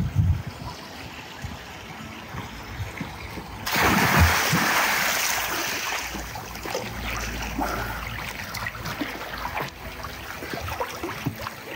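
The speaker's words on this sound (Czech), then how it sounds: "Voda přetéká z toho přírodního bazénu do toho samotného skimmeru" Water pours over the edge of a natural swimming pool into a skimmer, a steady broadband rush and trickle that grows louder partway through and then holds constant.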